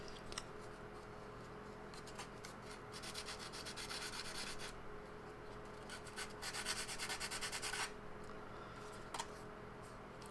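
Fine micron sandpaper rubbing a small 3D-printed resin miniature of TMNT Leonardo to smooth high spots and jagged edges, a close, continuous scratchy rasp in bursts with brief pauses.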